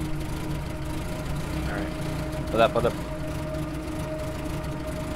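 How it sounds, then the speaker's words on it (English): A car engine runs steadily in the survival game DayZ, a low idling drone throughout with a short burst of louder clatter partway, while a person briefly speaks over it. "I'm gonna drive the car away"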